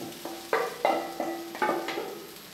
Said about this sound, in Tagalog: Parang hinahalo mo na lang para mag-blend yung lasa.